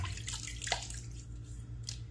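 Water rinsed from a safety razor is poured out, giving faint splashes and drips over a low steady hum.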